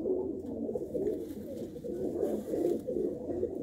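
A Chinese pigeon coos in a low, continuous, rolling murmur, close and steady throughout with no voices.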